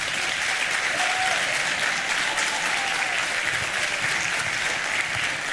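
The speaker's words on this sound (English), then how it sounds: "Let's give another round of applause for the band." Audience at a high school spring concert applauds the band, a dense, steady wash of clapping that stays loud and even throughout with no break.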